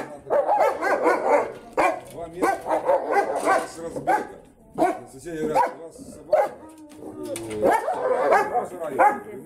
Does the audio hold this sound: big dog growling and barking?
yes